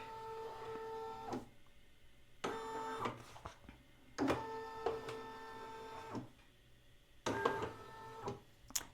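An embroidery machine traces a stitch outline for a dog bandana, its stepper motors whirring in four short bursts separated by quiet pauses.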